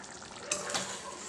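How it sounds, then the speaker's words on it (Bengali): A spoon stirs fish kalia, a Bengali fish curry with black cumin, as it simmers in a pan, giving a short close scrape over a soft steady sizzle. "তারপরে একটু ভালো করে নাড়াচাড়া করে নিচ্ছি"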